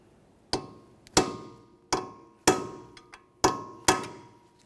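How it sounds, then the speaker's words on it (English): Six sharp metallic strikes from a hammer on a punch, driving an axle nut into its notch on a 1994-1997 Honda Accord front hub, each ringing briefly at an uneven rhythm, close and clear. "We'll use a hammer and punch and drive the nut into that area"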